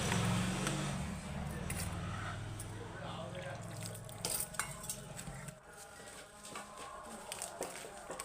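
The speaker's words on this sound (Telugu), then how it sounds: "బెల్లం వరిపిండి మనం కలిపేసుకున్నామండి." Grated jaggery and rice flour are stirred together by hand in a bowl for purnam burelu, giving soft scraping and rustling that runs close and steady, with a voice talking over the start.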